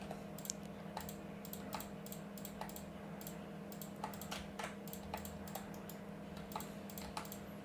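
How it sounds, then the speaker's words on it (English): Someone types steadily on a computer keyboard in a quiet room, with scattered soft key clicks and brief flurries recurring throughout over a constant low electrical hum, no voices. "It's just been me and my keyboard."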